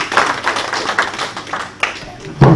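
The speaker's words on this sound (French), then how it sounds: "Je vous demande de l'applaudir, c'est un artiste." Brief scattered clapping breaks out from a conference audience in Congo for an artist being introduced, mixed with voices and rising briefly near the end.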